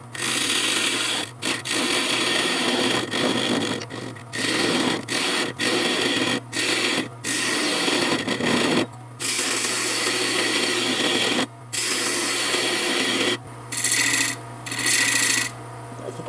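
A bowl gouge hollows a box elder wood box on a lathe. Rough scraping cuts come in repeated bursts over a steady, close motor hum.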